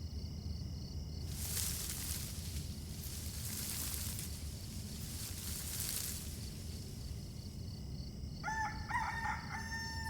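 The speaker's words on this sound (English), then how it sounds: "The rooster already crowed." A rooster crows in the video game Love and Deepspace, two long loud calls rising over a steady background hum, followed by a short chime-like tone near the end, with no speech.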